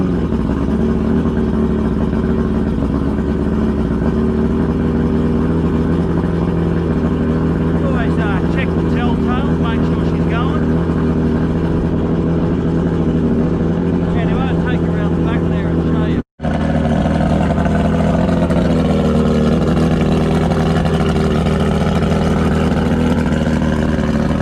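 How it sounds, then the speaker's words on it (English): A 40 horsepower pull-start outboard boat motor runs with a steady, loud low drone and engine hum, briefly cutting out before picking back up, while faint speech sits underneath. "So my boat got this outboard, full start, 40 horse, goes alright."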